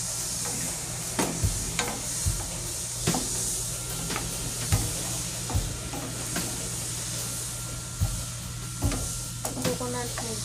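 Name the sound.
coconut milk added to cooking fish curry in pan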